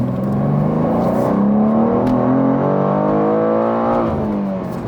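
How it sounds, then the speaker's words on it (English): A 2024 BMW M2 engine revs hard in first gear on a semi-country road, its harmonic drone climbing steadily in pitch for several seconds before easing off, loud and heard from inside the car. "I'm in like first gear here. I'm gonna give it a rip"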